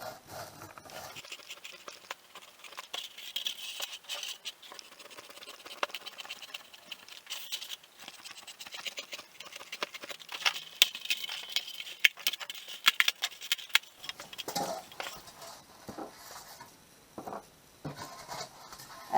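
Craft foam is cut by hand with scissors, producing soft, irregular snips, scratches and rustles close by, with busier crunchy cutting toward the middle and end and no speech.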